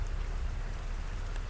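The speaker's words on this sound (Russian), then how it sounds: "Дождь опять начинается." Rain starts again over a garden with clematis and a pergola, giving a soft, even, steady patter that is moderately quiet and continuous, with no voices.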